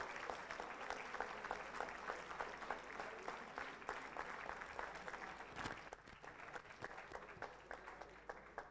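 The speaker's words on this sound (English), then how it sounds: "I think we can welcome Rtn District 3206 with a warm and thunderous round of applause from all of you." A roomful of people applauds at a Rotary district governor installation, fairly faint but continuous clapping with distinct individual claps standing out from the steady patter.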